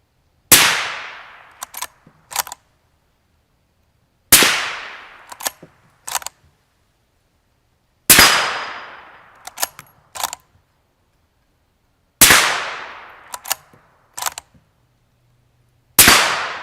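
Five loud, sharp gunshots from a 350 Legend rifle firing subsonic rounds into the dirt, spaced about four seconds apart, each followed by a brief decay and quieter clicks of the action cycling.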